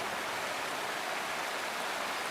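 A waterfall in the video game Wuthering Waves makes an even, unbroken rushing hiss of falling water, steady from start to finish.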